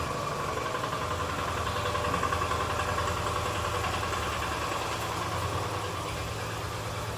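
A petrol-fuelled backpack sprayer motor of about 20 to 25 litres idling, a steady buzzing engine drone with a fine rapid vibration, close and unbroken, with no voices.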